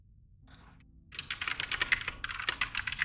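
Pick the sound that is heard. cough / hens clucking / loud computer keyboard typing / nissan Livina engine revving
loud computer keyboard typing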